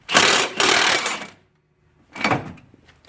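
A Milwaukee power tool tightens a ball joint on a 2004 Ford Escape, giving two close, loud buzzing bursts, then a pause and a third shorter burst.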